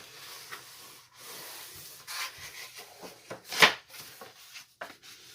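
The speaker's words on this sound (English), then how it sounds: "Again, crease it with the bone folder." A paper card creased with a bone folder, heard as soft close rubbing and scraping strokes over about five seconds, quiet with one sharper swipe near the end and no talking.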